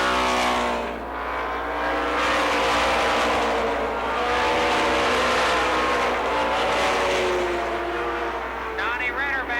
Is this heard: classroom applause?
no